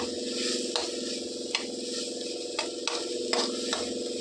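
Ingredients for a tomato and coconut curry frying in a pan, giving a steady sizzle broken by a few sharp clicks and scrapes, probably from stirring.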